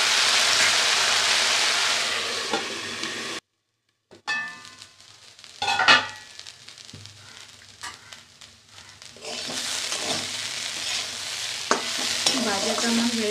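Young onion stalks, beetroot, carrot, potato and three green chillies frying in a pan, stirred with scraping and clatter over a loud hiss; the sizzle cuts out briefly, then returns with scattered pops and utensil knocks.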